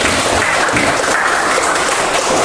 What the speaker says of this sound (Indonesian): Silakan kita kasih aplaus lagi untuk teman-teman.